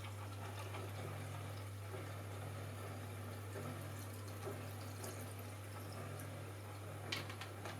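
Fixer solution from a Bellinifoto C41 film-processing kit pours into a film developing tank, a faint, steady trickle over a low constant hum, with a slight splash near the end.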